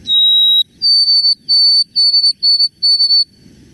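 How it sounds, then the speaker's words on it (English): A clear, pure whistled white-throated sparrow song: one long high note followed by a series of evenly repeated slightly higher notes, loud and close. "The white-throated sparrow."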